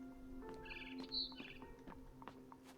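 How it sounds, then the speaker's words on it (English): A barn swallow in the game What Remains of Edith Finch chirps just outside a window, a soft twittering of short high tweets over a faint steady background hum. "Then I heard chirping outside my window."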